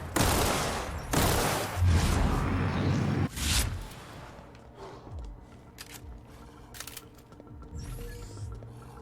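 Gunfire in The Outer Worlds: loud, dense volleys of rapid shots fill the first few seconds, then the shooting thins to scattered, quieter reports and softer game sounds.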